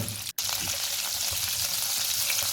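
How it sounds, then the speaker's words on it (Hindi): Potato pieces for Hyderabadi dum biryani shallow-frying in a pan over low heat, producing a soft, even sizzle with occasional light stirring. It is moderately quiet and close, with no one speaking. "मैं इसको ना अच्छे से फ्राई करूँगी ताकि दोनों साइड इसकी हल्की हल्की ब्राउन हो जाए"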